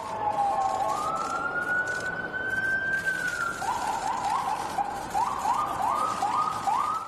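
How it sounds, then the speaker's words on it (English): Police sirens wail outside a church near the White House, one long rising tone followed by a rapid repeating yelp, loud and sustained over a busy background. "As sirens blared in the background."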